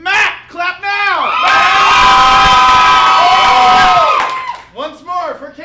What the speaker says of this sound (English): If you think it's Matt, clap now!